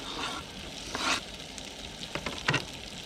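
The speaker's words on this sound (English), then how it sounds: "got our sesame oil nice and hot. Put our potatoes in there." Potatoes frying in hot sesame oil at a camp stove, a steady sizzle broken by a few louder bursts of crackling and stirring scrapes, close and with no talking.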